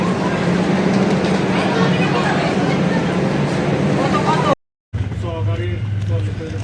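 The intercity Chitra Express on the Khulna–Dhaka line runs after leaving Ishwardi, a loud continuous rumble and rattle from inside the coach, with people talking over it and a brief cut near the end.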